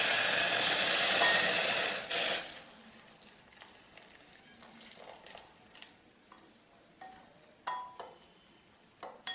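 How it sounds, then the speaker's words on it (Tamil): Boiling hot water is poured onto hibiscus flowers for tea, a loud rushing hiss for about two seconds that fades into soft trickling and a few sharp clinks. "அதை செம்பருத்தி பூ ஊற்றணும்."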